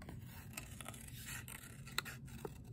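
Scissors cut out paper flower embellishments in quiet, close snips and light paper rustling, with a few sharper clicks of the blades and no talking.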